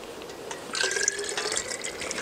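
Warm water poured into a drinking water container at a snow cave camp on Mt. Hood, a steady trickling fill that swells in the middle and carries on to the end, close to the microphone with no talking.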